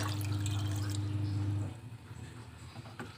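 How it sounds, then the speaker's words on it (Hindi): Water poured into a pot of mixed dal for a dhaba-style recipe, a steady loud liquid pour with a low hum for about a second and a half, then quieter kitchen clatter. "पानी हमने इसमें ऐड किया था और थोड़ा सा पानी हम और ऐड करेंगे"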